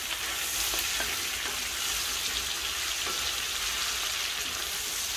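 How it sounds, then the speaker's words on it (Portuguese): Steady, dense sizzling of chicken frying in chicken fat, close up and continuous with faint crackles. "agora estou fritando na gordura da galinha"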